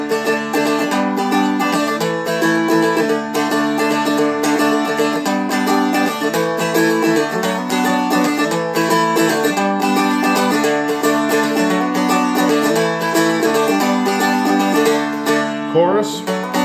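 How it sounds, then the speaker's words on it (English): A Seagull Merlin strums the verse chords of a song, a steady, bright rhythmic pattern of plucked and strummed chord changes, loud and close, played alone without talking. "Verse sounds like this."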